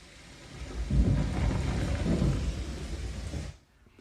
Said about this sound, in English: you hear the sound of a storm, thunder and rain.